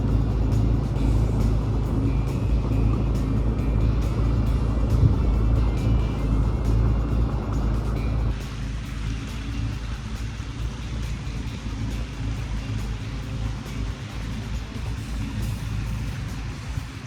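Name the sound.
jet ski cruising slowly through canals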